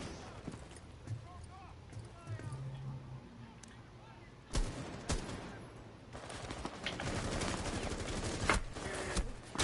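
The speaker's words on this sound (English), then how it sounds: "Yo, getting shot from where? What shot me, yo?" Sharp gunshots and bursts of automatic fire ring out in a Rainbow Six Siege match, with sporadic shots at first, then a denser, louder stretch of rapid fire near the end, while voices talk over the game.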